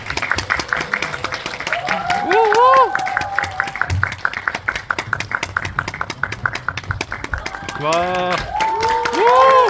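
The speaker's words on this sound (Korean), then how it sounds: "큰 박수로 맞아주십시오." A film talk-show audience welcomes a guest with loud clapping and excited cheering, voices whooping and shouting over the sustained applause, swelling again toward the end.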